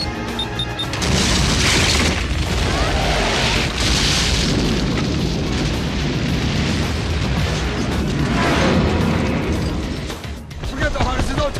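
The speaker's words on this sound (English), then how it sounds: "There's a bomb over your head!" Bomb explosion from the mountain-climbing action film Cliffhanger, a loud sustained booming roar and crash lasting several seconds, with rumbling debris and a second swell of noise near the end, mixed under a film soundtrack.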